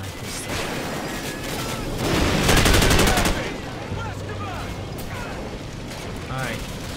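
Gunfire in Call of Duty 4: Modern Warfare: a loud burst of shots cracks out near the middle over a steady battle din, with a person talking over the game.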